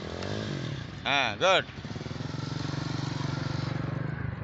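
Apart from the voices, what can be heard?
motorcycle engine revving during a riding lesson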